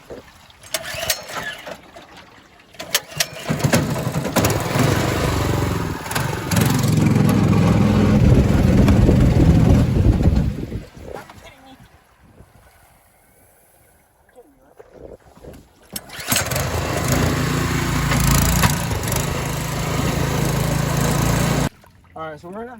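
A brand new outboard motor on a mud skipper boat rumbles loudly outdoors in two long bursts separated by a quieter lull, with wind buffeting the microphone.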